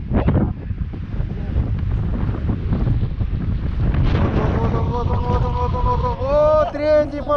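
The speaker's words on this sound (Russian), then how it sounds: "Ветер обалденный" Strong wind buffets the microphone on a frozen lake during ice fishing in frost, a steady broadband roar that runs the whole time, with people talking over it toward the end.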